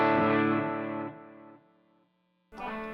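Electric guitar through a single amp model on an ACS1 unit, panned to one side with effects: a sustained chord decays over about two seconds into silence, then a fresh strummed chord rings out.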